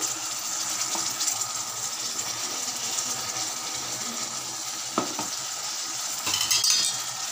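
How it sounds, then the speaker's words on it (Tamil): Amla jam simmering on low heat as it is stirred, giving a steady bubbling, sizzling hiss with a few soft scrapes and clinks of a spoon against the pan, close and continuous. "இப்போ இது சிம்மில் வச்சு நல்லா கலக்கி விட்டுக்கலாம்."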